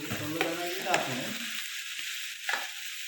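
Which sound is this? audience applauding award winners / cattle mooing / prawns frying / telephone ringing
prawns frying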